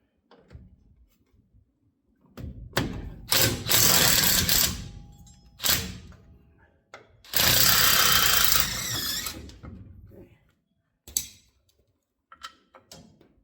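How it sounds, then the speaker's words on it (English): A socket ratchet turns a 5/8 bolt on a 1958 GMC pickup during a disc brake conversion, with two long loud bursts of rapid clicking and a few shorter ones, close up and without talk. "Now we have one more 5/8 bolt right here. We'll go ahead and get our socket on there."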